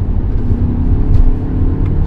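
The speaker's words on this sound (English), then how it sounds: "The engine sounds a little bit coarse." VW Arteon Shooting Brake engine pulling under acceleration, a steady, slightly coarse low drone heard from inside the cabin with even road and tyre roar and no voices.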